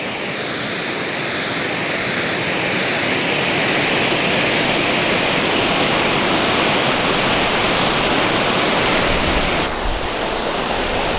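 Steady, loud rushing of the river flowing downstream at Del Rio, Texas, a broad continuous wash of water noise with no voices, holding constant for the whole stretch.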